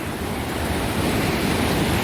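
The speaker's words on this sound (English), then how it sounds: "The currents underneath will literally pull you into these rapids, take you right on down." Rapids of the Kaweah River at Hospital Rock in Sequoia National Park rush in a dense, continuous roar of churning water, loud and close with no pauses.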